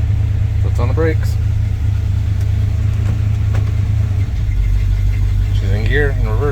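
A Chevrolet squarebody truck's engine idles steadily in gear, a loud, close, even low rumble that runs unbroken throughout while someone talks over it at intervals.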